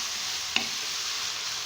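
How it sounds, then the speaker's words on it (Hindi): Mixture for restaurant-style Chinese rice frying lightly in a pan, a steady soft sizzle with one sharp scrape of a stirring utensil partway through, close and alone. "इन्हें बस हमें हल्का सा फ्राई करना है"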